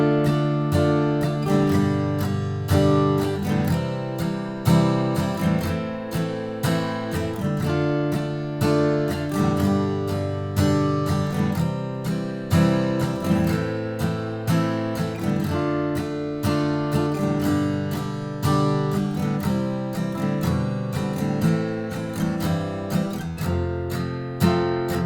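Acoustic guitar strumming the first chorus of a song in a steady down-and-up pattern, chord changes ringing out clearly and close, alone with no voice.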